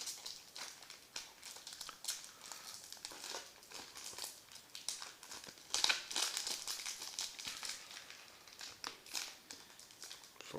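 Trading card pack wrappers crinkle and tear as packs are opened, making a continuous close, quiet rustling with sharper crackles scattered throughout and no talk.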